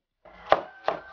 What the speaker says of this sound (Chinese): 切一点葱花